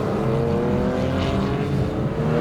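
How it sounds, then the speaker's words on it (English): A Theon Design ITA001 restomod Porsche 911 engine revs hard, its loud rasping, harmonic-rich note rising steadily in pitch as it pulls through a gear, close and continuous, without talking. "the sound that this car makes"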